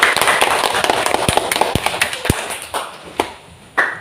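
Students clapping in a classroom, a quick burst of fairly close, loud hand claps that thins into a few scattered sharp claps and then fades out.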